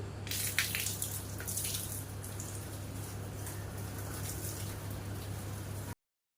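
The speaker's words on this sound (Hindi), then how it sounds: "तो पौधों में पानी दे देती हूँ।" Water is poured onto household plants, a faint, steady splashing and trickling that continues for several seconds with no voices, then cuts off abruptly.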